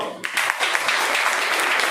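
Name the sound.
schoolchildren clapping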